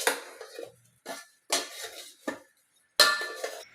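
Soaked soya beans are stirred into masala for a meatless chicken 65, producing several separate bursts of metal utensil scraping and clinking against a pan, close up with short pauses between strokes.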